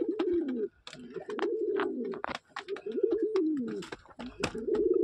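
Pigeons coo steadily at a pigeon sale, close and fairly loud, their repeated throaty calls overlapping almost without pause, with a few faint clicks and bumps between them.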